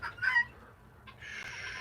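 Leghorn laying hens in a coop give a short burst of clucks, then a steady hiss of background noise fills the rest.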